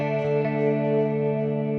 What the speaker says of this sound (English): And you can listen this flanger